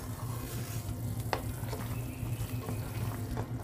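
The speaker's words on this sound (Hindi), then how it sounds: "चाशनी में उबाल आ चुका है" Sugar syrup for Rajasthani guna sweets boiling in a pan while being stirred, a steady low bubbling seethe with soft scraping and clinks, one sharper tap partway, no voices.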